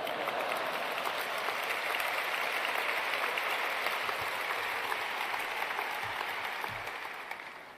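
Steady, dense applause from a large audience filling a hall at the opening ceremony of the 37th German Protestant Kirchentag, sustained and even throughout before tapering off slightly at the end.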